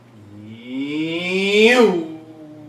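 A voice imitates a passing car, a rising hum that swells louder then drops sharply in pitch as it goes by.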